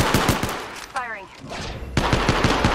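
Rapid automatic weapon fire from an Apex Legends match comes as a quick burst of loud, close shots. A short pause follows, then a second volley, with game sounds between the bursts.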